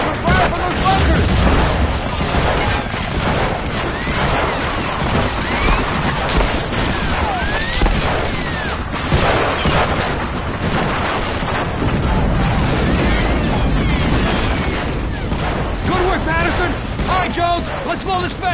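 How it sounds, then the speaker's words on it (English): Sustained gunfire from bunkers in Medal of Honor: Frontline, a dense, loud wartime battle of rapid shots, booms and crashes that carries on continuously, with voices shouting over the din. "Watch for fire from those bunkers!"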